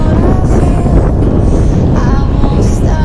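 Strong wind gusts buffet the microphone during a cross-country bicycle tour, a loud, continuous low rumble with surging gusts throughout.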